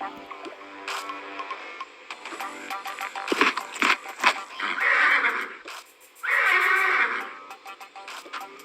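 A cartoon horse in the game Toca Life World neighs and whinnies in several drawn-out bursts, close and clear, with small clip-clop and squishy game sounds between calls and no speech.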